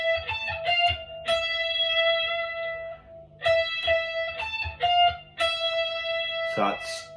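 Electric guitar playing a solo phrase slowly, a handful of separate sustained notes with bends and pauses between them, clear and close with no talking.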